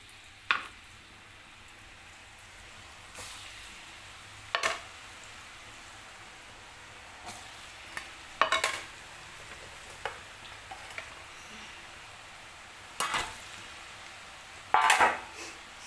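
Murukulu dough is pressed into hot oil at home and fries with a quiet steady sizzle, punctuated by occasional sharp clinks of a utensil against the pan.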